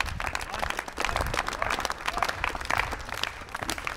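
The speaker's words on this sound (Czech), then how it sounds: "Pojďme mu zatleskat." An audience claps after a trick in a game of OUT at a flatland bike event, a dense patter of applause that rises and falls for a few seconds, mid-distance, with no talk over it.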